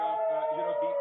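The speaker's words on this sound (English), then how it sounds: "as I speak, you can hear the air raid sirens going in" Air raid sirens wail during an Iran–Israel conflict, a steady, loud, sustained tone with rich harmonics that holds throughout while someone talks over it.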